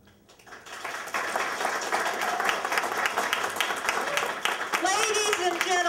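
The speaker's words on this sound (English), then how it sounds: "we cannot have all this clapping" Sustained audience applause fills the hall at a political debate after a candidate's closing statement, steady and moderately loud throughout, with voices audible beneath the clapping.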